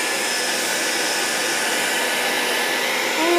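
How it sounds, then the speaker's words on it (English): A hair dryer blows steadily at close range, a continuous broadband whoosh held at an even level for a few seconds, used to dry paper being aged. "So this is a hair dryer"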